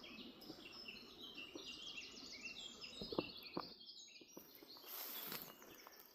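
Several birds sing in a pine forest on a Lancashire nature reserve, giving bright overlapping chirps and trills at fairly close range. Faint footsteps and rustling sound beneath them.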